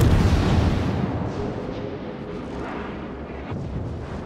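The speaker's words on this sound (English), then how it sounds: "It's all that secondary gunfire, just basically coating the entire area." Secondary gunfire from battleships in the naval combat game World of Warships, a loud rumbling barrage of booms and blasts that starts strong and slowly fades, with no talking.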